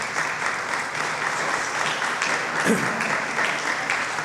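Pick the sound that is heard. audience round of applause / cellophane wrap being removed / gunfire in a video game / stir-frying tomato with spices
audience round of applause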